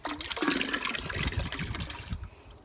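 Blended paper pulp, mixed to a porridge-like consistency, is poured into a container of water, making a steady, sloshing gush of liquid that fades out near the end.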